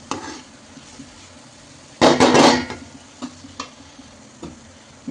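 A spoon stirs ingredients in a cooking pot with a burst of loud scraping and clattering in the middle, framed by a few sparse, softer taps and clinks in a quiet kitchen.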